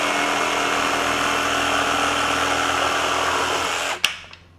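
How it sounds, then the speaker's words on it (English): RIDGID R86344 18V brushless jigsaw cutting at a 45-degree bevel, with its dust blower on, gives a steady loud buzzing drone that stops abruptly near the end with a sharp clack. "So plenty of power from the jigsaw."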